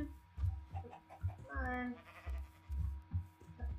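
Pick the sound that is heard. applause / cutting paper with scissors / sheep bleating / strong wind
sheep bleating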